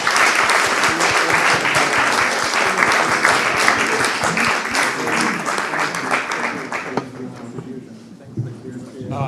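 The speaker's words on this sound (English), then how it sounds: "Please join me in applauding our speakers." An audience at a London forum panel session applauds the speakers with sustained, dense clapping that holds steady before tapering slightly near the end.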